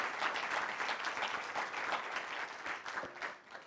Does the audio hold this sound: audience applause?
yes